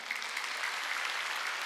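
A church congregation at a Wednesday worship service claps together in a steady, dense wash of applause that fills the space evenly from start to finish, with no voices rising above it.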